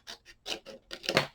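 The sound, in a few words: cutting out a Halloween craft piece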